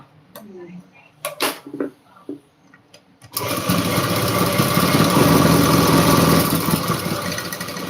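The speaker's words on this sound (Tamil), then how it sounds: "கிரைண்டர் ஓடுது ஆஃப் பண்ணுப்பா" A kitchen grinder in a home starts abruptly partway through after a few scattered knocks and bumps, then runs as a loud, steady, close motor whir that continues to the end.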